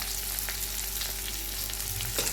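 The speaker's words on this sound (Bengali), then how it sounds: "এগুলো এখন একটু কষি" Kashmiri chili, cumin and coriander powder sauté in a pan, giving a dense, steady, close sizzle with faint stirring over a low hum.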